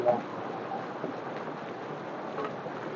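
Rain falls outdoors in stormy weather under dark clouds, a dense, even hiss of drops hitting surfaces that continues unbroken at moderate loudness.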